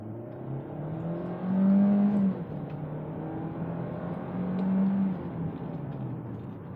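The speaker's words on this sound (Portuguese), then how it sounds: "vamos dar aqui uma cravada de pé para ver mais uma vez como é que é o comportamento dele" A Hyundai ix35 SUV's engine revs up hard twice accelerating from a stop, each surge rising and then easing off, heard from inside the vehicle with a steady hum between.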